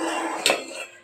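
Cooked cassava scraped from a cooking pot into another vessel in a kitchen, a brief clatter of metal utensil against the pan, close and fairly loud, with no talk.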